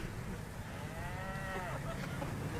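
A Jersey cow moos once at a distance, a drawn-out, moderately loud call with a curving tone that rises and falls over a steady background hum, with no talk during it.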